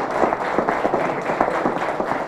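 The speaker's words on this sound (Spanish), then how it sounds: "Un aplauso muy fuerte para él." An audience applauds at a sports journalism awards forum, a steady, close wash of many hands clapping with no pause throughout the short stretch.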